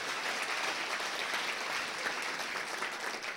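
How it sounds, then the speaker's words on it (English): Comedy club crowd at a stand-up show gives a sustained round of applause, dense and even clapping filling the room at moderate distance. "Give Shay a round of applause."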